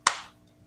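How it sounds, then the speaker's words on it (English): A single sharp hand clap from one person, close and crisp, followed by a short decaying tail and quiet. "if you maybe clap, then it'll be big"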